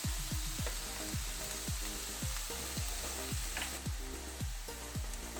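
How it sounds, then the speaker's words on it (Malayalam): Onions sautéing in coconut oil in a pan sizzle and crackle steadily, with a rhythmic series of stirring scrapes repeating about every half second, close and alone. "ഇനി നമുക്കിതെല്ലാം കൂടെ ഒന്ന് വഴറ്റി കൊടുക്കാം."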